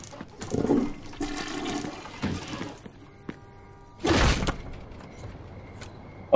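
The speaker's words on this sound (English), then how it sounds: "let me flush the toilet." A toilet being flushed in the video game Mafia 2: a loud rushing whoosh of water lasting under a second, preceded by clunks and mechanical knocks, with quieter game sounds around it.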